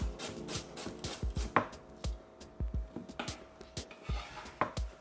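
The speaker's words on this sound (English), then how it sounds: "Got 1 medium-sized white onion, and I simply cut it up" A knife chops a medium-sized white onion on a board: sharp, close, irregular taps in quick bursts with short pauses between, no voices.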